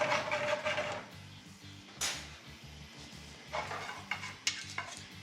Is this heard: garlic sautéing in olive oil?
yes